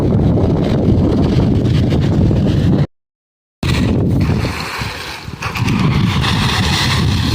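Strong wind buffets across an open farm field, a loud roaring rush of gusts battering the microphone, broken by a short silent gap before the blustery noise resumes.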